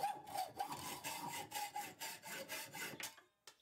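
A rebuilt hacksaw makes a test cut through scrap metal, giving a steady run of about eight rasping back-and-forth strokes close up, then stopping abruptly with a brief clink at the end.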